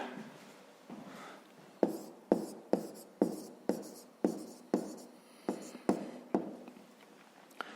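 A pen scratches across paper in a fifth-grade maths workbook exercise, writing in quick separate strokes, about a dozen sharp close scrapes in a loose rhythm with no voices.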